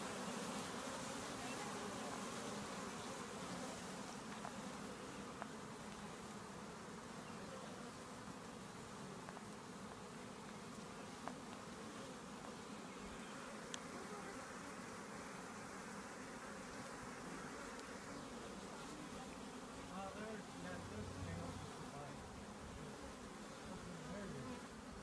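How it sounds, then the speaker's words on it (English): Bees buzz continuously in a dense, steady drone that holds at an even level throughout, with no talk. "Did you know this much about bees before?"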